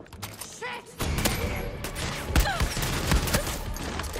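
Gunfire in the video game Far Cry 6 arrives as a burst of sharp, loud shots with several heavier thumping cracks over a constant busy game-action background.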